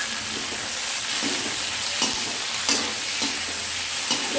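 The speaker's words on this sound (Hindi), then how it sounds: "हल्का ब्राउन सॉटे करेंगे। इसी में डालेंगे टमाटर।" Tomatoes sizzling and frying in a pan with onions for a spicy Hyderabadi paneer curry, a steady loud hiss with occasional stirring scrapes and clinks of a spoon.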